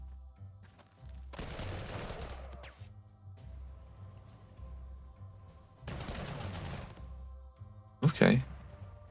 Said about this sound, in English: That's artillery.